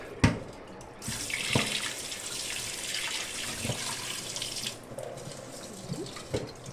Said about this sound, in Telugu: ఒకసారి మంచిగా శుభ్రంగా కడుక్కొని ఈ విధంగా కడుక్కొని